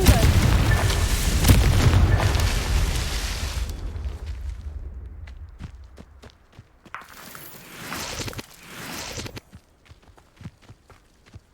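Confringo explosive spell from Hogwarts Legacy, a loud, booming blast with a long rumbling decay, followed by scattered crackles, debris and footsteps as it fades.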